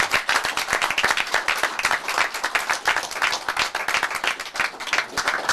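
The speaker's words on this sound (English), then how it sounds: "let's give a little applause to that." Lively applause from a crowd at a caddie hall of fame induction ceremony in St Andrews, Scotland; many distinct sharp claps blend into a brisk, loud, continuous patter lasting the whole stretch.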